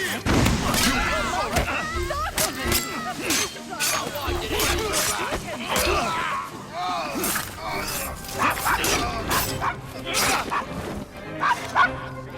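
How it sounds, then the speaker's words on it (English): Excited dog in Assassin's Creed Syndicate barking and yipping repeatedly in short bursts, set against busy game sounds with voices talking over it. "Oh, that dog."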